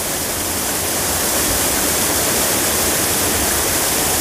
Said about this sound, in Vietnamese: Suối rất là đẹp nha quý vị.